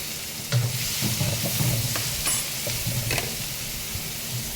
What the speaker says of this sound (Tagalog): Gisa muna natin